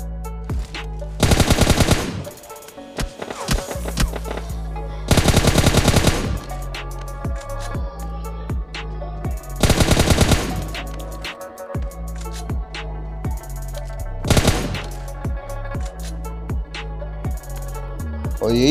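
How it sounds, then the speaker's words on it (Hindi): Automatic gunfire bursts out in PUBG Mobile Lite, loud, rapid machine-gun volleys in several clusters separated by sharper single shots and brief lulls across almost twenty seconds. "और पीछे से मेरे को गोली लगी भाई।"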